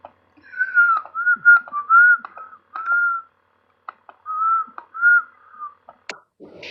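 A person whistles a short melodic tune in clear, close notes, broken into phrases with brief pauses and a few small clicks between them.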